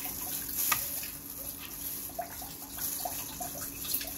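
A kitchen tap runs steadily into a sink, a continuous close wash of water with light splashing and no talking.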